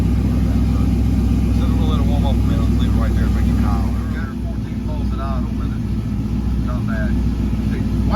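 A car engine with a TH400 transmission and quick spool valve idles steadily after warming up, a loud, close, constant low rumble throughout, with people talking over it.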